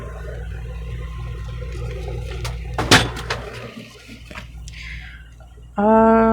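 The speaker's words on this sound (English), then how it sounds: "Oh, my bottle of water fell too." Plastic water bottle tipping over on a table, a sharp thump with a short clatter midway through, followed by a quieter settling rustle and a sudden tonal hum at the end.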